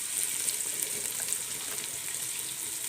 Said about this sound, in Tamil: வெங்காயம் நல்லா பொன்னிறமாக வதங்கி வரட்டுங்க.